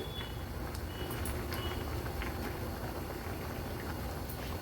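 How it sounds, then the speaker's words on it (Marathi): A spicy Agri-Koli style stew of flour-stuffed crabs boils in a pot. It gives a steady, faint bubbling simmer with no pauses and no voices. "कालवणाला पण छान उकळी आली आहे."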